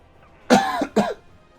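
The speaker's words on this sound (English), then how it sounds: "Oh god, I was suppressing that cough for so long." Two sharp, close coughs in quick succession from one person, the second shorter than the first, with quiet room tone before and after.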